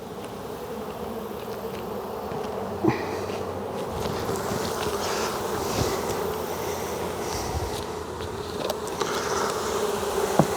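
Honeybees swarm around an opened hive during an inspection, making a dense, continuous buzz close by with a few light knocks from handling the frames.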